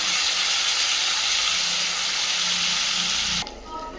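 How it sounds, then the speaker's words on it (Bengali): Paneer frying in a pan of oil with ghee, a loud continuous hiss and sizzle that cuts off abruptly near the end, leaving quieter kitchen background. "এবার পনির ভেজে নেবো। এখানে আমি একটু ঘি দিয়েছি তেলের সাথে।"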